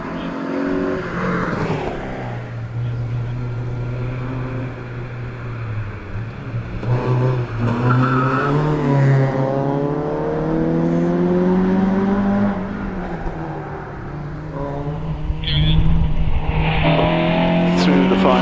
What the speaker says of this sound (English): out of Pardon comes Tom Weaver in Saxo